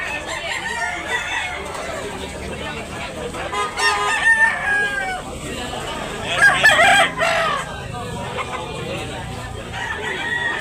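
Roosters crow repeatedly amid a busy outdoor crowd at a rooster market in Tabunok, Talisay, Cebu, with people talking nearby and several birds calling over one another.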